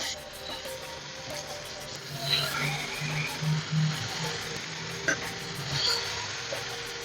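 Bitter gourd pieces fry in sesame oil, a soft, steady sizzle with a few clinks and taps as pieces are set in the pan, fairly close and moderate in volume.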